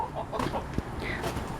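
Homestead chickens cluck softly nearby in a few short, scattered notes, faint against a quiet outdoor background.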